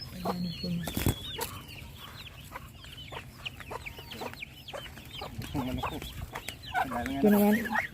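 Several chickens cluck busily close by, short choppy calls overlapping, with a sharp knock early on and a person speaking quietly in the background.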